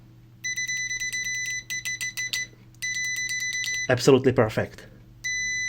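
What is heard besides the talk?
multimeter continuity test beeping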